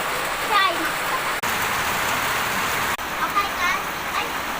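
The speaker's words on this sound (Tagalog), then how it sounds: "Ay, yung ulan na pala." Steady rain pours down in a dense, even hiss that fills the whole stretch, while a voice briefly talks beneath it.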